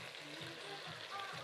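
Carrots, peanuts, spring onion and garlic sizzle faintly in a pan, a soft, steady hiss with no talking.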